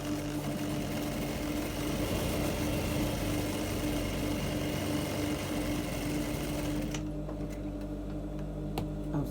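A sewing machine stitches a dart in bustier fabric with a steady, close mechanical whir and rapid ticking that runs continuously, then thins to faint clicks near the end.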